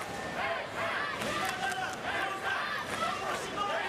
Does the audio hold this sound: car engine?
no